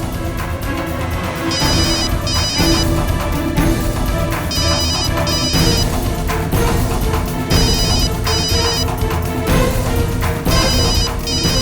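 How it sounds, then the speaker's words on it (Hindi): A telephone rings repeatedly in a home, bursts of ringing recurring throughout over a loud background of dramatic music. "फोन कहाँ से बज रहा?"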